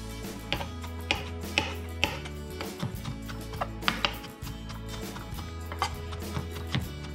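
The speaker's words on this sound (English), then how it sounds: "So I'm going to mince them too." A kitchen knife mincing ingredients for takoyaki on a cutting board, close and steady rhythmic chopping taps, quick and evenly spaced, under a faint background hum.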